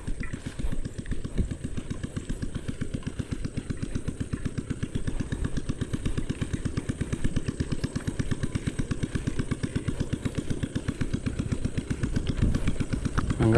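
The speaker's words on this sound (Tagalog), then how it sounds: "hanggang mamaya hapon umaandar pa tong makina natin na to" A small farm grass cutter engine running steadily at a close, even putter with rapid regular firing pulses throughout.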